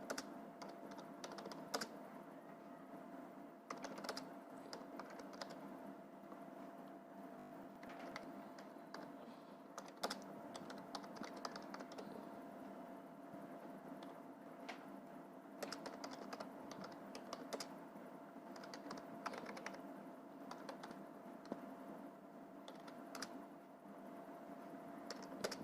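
A paragraph is typed on a computer keyboard, a steady stream of quiet, close key clicks with irregular rhythm and short pauses, continuing for about half a minute with no speech.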